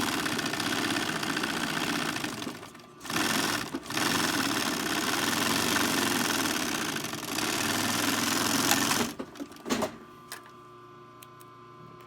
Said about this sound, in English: having this walking foot pack sewing machine really makes it possible.